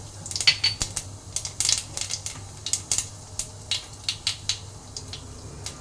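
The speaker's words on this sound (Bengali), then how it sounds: "কালো জিরাটা ফুটে গেছে" Black cumin seeds splutter in a little hot oil in a kadai on a gas stove, making a quick series of close, crisp pops and crackles at an uneven rhythm, with no talk.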